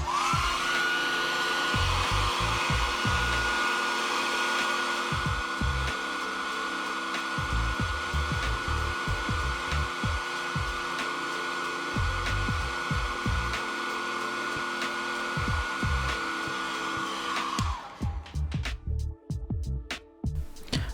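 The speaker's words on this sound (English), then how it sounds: "heat with a hairdryer and carefully peel the speaker from the iPhone case" A hair dryer blows steadily with a high whine while heating an iPhone XS to loosen its speaker; irregular knocks and scraping sounds occur nearby, and the dryer switches off near the end.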